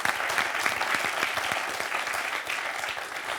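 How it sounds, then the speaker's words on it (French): A French quiz-show studio audience applauds a young contestant, a thick, even roar of clapping that holds steady throughout. "On peut l'applaudir encore une petite fois"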